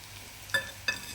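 Onion being sautéed with chili, masala, turmeric, salt and sugar in a pan: two quick, quiet spatula scrapes over a faint sizzle.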